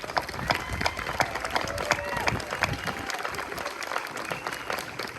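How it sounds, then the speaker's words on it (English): Steady clapping from a crowd at a sixth-grade spring school concert, a dense patter of many hands continuing throughout at moderate loudness. "can we give them another round of applause just for that?"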